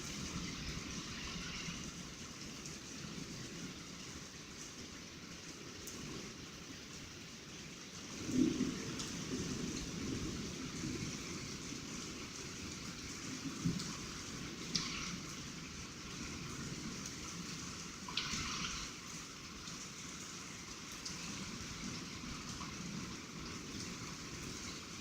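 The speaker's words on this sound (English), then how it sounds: "It is raining pretty heavy" Heavy rain pours steadily through a severe storm on a street, a dense continuous hiss with scattered louder drops and spatters, close and enveloping, with no talking.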